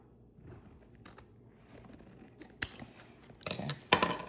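Scissors slice through fall ribbon in a few close, crunchy snips. The last cuts are louder, after a quiet rustle of handling.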